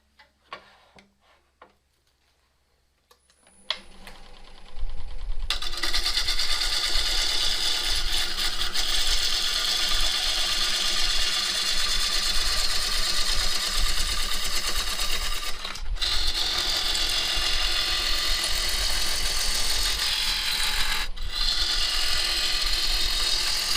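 A bowl gouge cuts pecan wood spinning on a lathe, starting after a few seconds of near silence and then running as a loud, continuous hissing shear with a steady mechanical whir, briefly broken twice.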